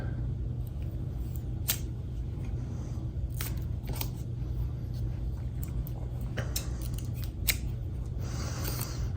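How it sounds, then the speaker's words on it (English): Scissors cut through packaging for a pair of red Aftershokz bone-conduction headphones, giving a few sharp, separate snips and crinkles over a low steady room rumble, with no talking. "I'm going to actually use the scissors here to cut this."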